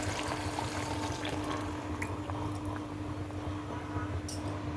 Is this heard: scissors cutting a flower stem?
no